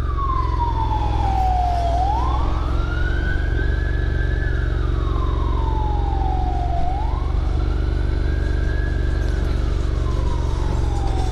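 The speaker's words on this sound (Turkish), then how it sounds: "Ambulans araya girdi." An ambulance siren wails up and down in slow, sweeping cycles, loud and close, over a steady traffic rumble.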